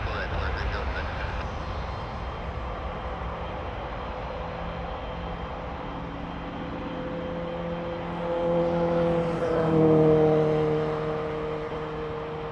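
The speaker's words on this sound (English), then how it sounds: "Embraer 175 rolling on runway 23" An Embraer 175 jet rolls for takeoff on runway 23 at Toronto Pearson, a distant engine roar that swells toward the end, with a voice talking over it.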